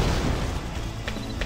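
An explosion in the action game Just Cause, a loud, dense rumbling boom that fills the whole moment with continuous low roar, with no talk over it.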